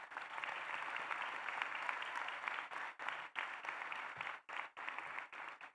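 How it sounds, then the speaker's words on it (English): Sustained audience applause at a law school commencement ceremony, a dense wash of clapping from a large crowd that swells and then breaks into uneven bursts as it tapers off. "So a huge round of applause for all of those individuals."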